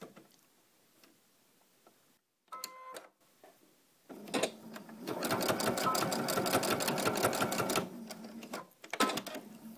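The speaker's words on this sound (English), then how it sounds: "now I'm going to just stitch straight down the center of this to keep my ribbon in" A sewing machine stitches a straight line down the center of small felt Christmas tree ornament pieces, with a ribbon held between them. A few brief starts lead into a long, steady, rapid mechanical run that stops and then ticks briefly again.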